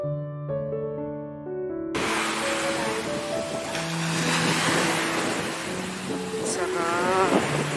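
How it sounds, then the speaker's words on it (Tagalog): Ocean waves washing onto a beach, a steady broad rushing surf close by, with music at the start and faint voices in the background. "Maririnig mo yung alon."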